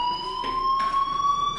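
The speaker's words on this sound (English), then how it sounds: "do you hear that fire alarm?" A school fire alarm in the video game Life is Strange rings steadily and loudly, a sustained electronic tone pulsing in regular bursts with no voices over it.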